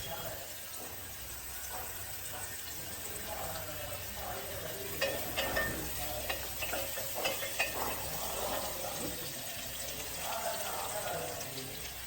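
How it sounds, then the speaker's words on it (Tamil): Curry leaves sauté in a pan for a mushroom-potato gravy, giving a soft, steady sizzle with scattered scraping stir strokes that come a little closer and louder midway. "அதை உள்ளே போட்டு கொஞ்சம் வணக்கி விடலாம்"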